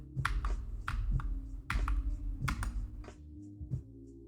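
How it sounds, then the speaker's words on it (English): Quick, uneven bursts of keystrokes are tapped on a computer keyboard close by. Short pauses separate the bursts, and the clacks are crisp and fairly loud in an otherwise quiet room. "Let's just type in."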